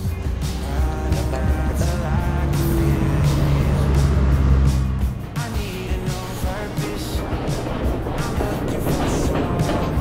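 A tuk-tuk carries passengers around Ella, Sri Lanka, its small engine buzzing loudly and close throughout, with a gear change midway and road rumble continuing after.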